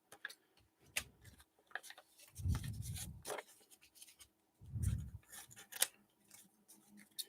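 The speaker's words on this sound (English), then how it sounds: "So let's cut up some more of this paper." Scissors cut paper scraps for paper flowers, with scattered soft snips and ticks and two longer rustling bursts, close and quiet, without talk.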